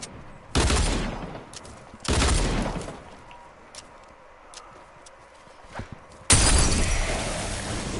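Dual pistols fire in Fortnite in three loud, close bursts of rapid shots, each lasting about a second, separated by quieter stretches of faint game sounds and small clicks.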